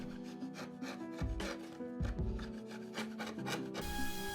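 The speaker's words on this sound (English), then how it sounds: "Sanding truly is the worst part of all of this" Steady rasping and rubbing strokes of sanding wood panels, repeated in an uneven rhythm, close and fairly loud, with no voices.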